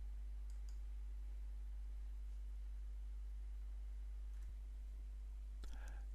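A computer mouse clicks a few times while navigating the Joomla 3 Administrator web interface. The clicks are faint and sharp, one near the middle and a quick pair near the end, over a steady electrical hum.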